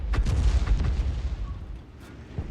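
A 105 leFH18B2 self-propelled artillery gun fires in a tank video game, with heavy booming shots close together at the start followed by a fading low rumble and a softer thump near the end.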